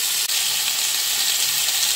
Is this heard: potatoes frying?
yes